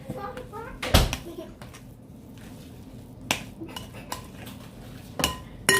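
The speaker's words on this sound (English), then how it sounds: "Fold our mixture in." A spoon folds a shrimp and cheese potato stuffing mixture in a bowl, with sharp clinks against the dish at intervals and soft scraping between them, while people talk quietly.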